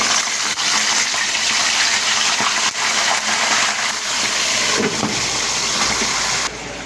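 Loud, continuous sizzling of tilapia frying in hot oil, a dense crackling hiss that holds steady before dropping slightly near the end.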